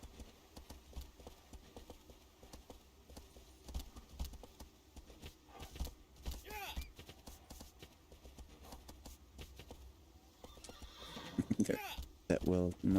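In the PS2 game Shadow of the Colossus, the hero's horse whinnies and its hooves clip-clop in sporadic bursts, with a loud neigh near the end, while a player talks over the game audio.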